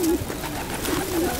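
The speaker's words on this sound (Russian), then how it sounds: "Куча голубей." A flock of hungry pigeons squabbles over sunflower seeds right underfoot on a street, with low, rolling coos close by and fairly loud.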